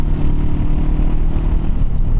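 A Honda NX500 motorcycle rides along a gravel road at around 80 km/h, its engine a steady, loud low drone mixed with wind rumble, constant throughout with no pauses.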